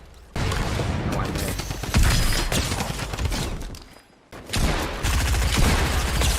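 Rapid gunfire from the video game Fortnite bursts in dense, loud volleys, cutting out briefly near the middle before resuming just as heavily.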